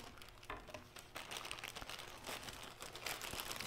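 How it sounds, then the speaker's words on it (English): A plastic sandwich bag crinkles steadily as a sandwich is slipped inside, a soft, close, continuous rustling with no talking. "Add it to the sandwich bag."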